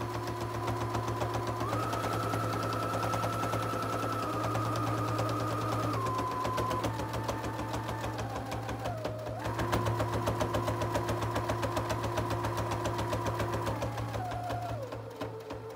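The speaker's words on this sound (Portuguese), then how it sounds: "Nós vamos rebater a costura aqui bem na beiradinha, com meio pé de máquina" Domestic sewing machine topstitching a seam close to the fabric edge with a half presser foot, a steady fast mechanical whir with shifting pitch running loud and continuous throughout, with slight pauses near the end.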